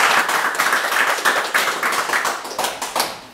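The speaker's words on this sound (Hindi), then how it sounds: "एक बार ताली बजाओ" Audience at a live comedy show clapping in a brisk, uneven burst of applause, close and lively, with individual claps standing out over a few seconds.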